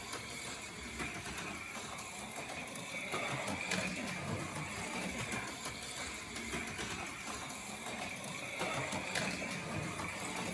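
An AFX/Racemasters 2021 Mustang Shelby GT500 slot car's small electric motor runs with a binding pinion gear, giving a steady, fairly quiet mechanical whir and buzz throughout.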